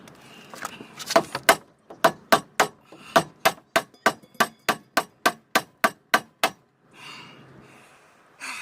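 Metal hammering a bearing onto a rear axle shaft of a Chevrolet Blazer/S10, about fifteen sharp strikes in a steady rhythm, close and loud, then a short pause with a scraping shuffle.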